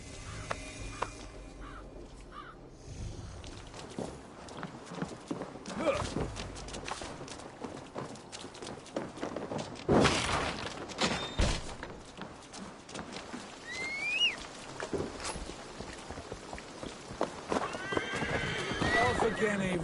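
Horses gallop with rapid clip-clop hoofbeats and repeated neighs and whinnies in the Assassin's Creed Valhalla video game, loud and close, with voices talking over the riding and occasional crow caws.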